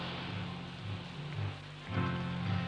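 Steady rain falls in a continuous hiss with scattered drops, plus a low droning hum that rises and falls underneath, loudest toward the end and with no one speaking.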